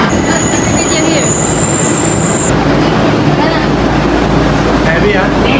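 MRT train at a station in Tokyo, a loud constant rumble of rail traffic with a high whine that drops away partway through, heard close up over continuous crowd and station noise.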